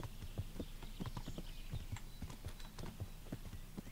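Horse hooves clip-clop in a steady walking rhythm in Kingdom Come: Deliverance, a close, moderately loud series of hoof strikes over a low background hum, with no talking.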